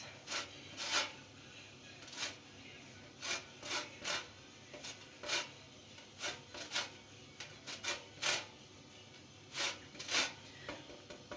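Lemon zest is grated on a grater in a home kitchen, producing short scraping rasps in irregular bursts, close and fairly quiet with no talk.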